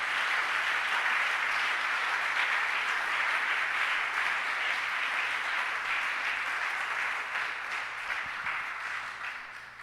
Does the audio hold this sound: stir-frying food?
no